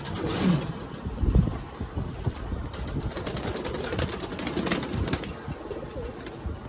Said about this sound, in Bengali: এইগুলো কিন্তু ওরা পায়রা, আমার রানিং ওড়ানো পায়রা, সেগুলোই দেখাচ্ছি আমি